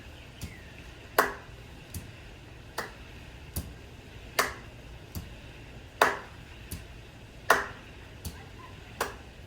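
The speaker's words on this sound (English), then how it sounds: "Stomp, clap, stomp, clap, stomp, clap." Stomp-clap rhythm pattern in a children's lesson: sharp single percussive hits alternating at a steady, evenly spaced pace, heavier strikes trading with lighter ones, close and clear with little else around.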